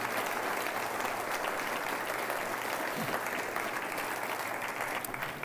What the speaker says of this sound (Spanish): Dale un aplauso al Señor entonces. Más fuerte el aplauso al Señor.